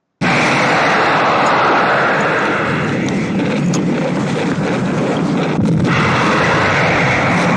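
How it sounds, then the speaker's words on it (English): A massive explosion from the 1979 science-fiction film Alien, a loud sustained roaring blast with dense low rumble and crackling debris that stays heavy for several seconds. "It's a freaking big explosion."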